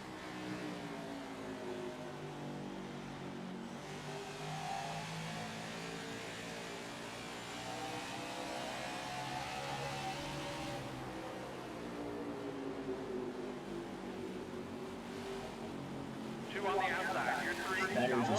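NASCAR stock car engines roar at Richmond in NASCAR 21: Ignition, a steady droning pack of cars with rising and falling pitch. A commentator talks over it throughout.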